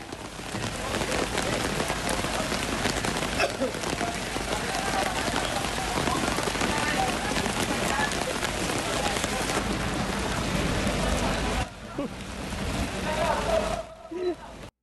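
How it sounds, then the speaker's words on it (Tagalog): A sudden downpour of rain pelts surfaces at an outdoor rally in Manila, a dense steady hiss throughout, briefly dropping near the end, with voices mixed in. "Biglang umulan eh, no?"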